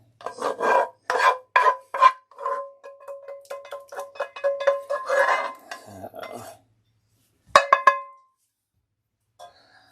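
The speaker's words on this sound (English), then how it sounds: "So I'm going to get this meat sauce spread on there." Meat sauce spread with a spatula over a ravioli lasagna in a pan: a run of close, sharp scraping and rasping strokes in bursts, easing into softer dabs, then a pause, one more quick scrape pair and a faint final touch.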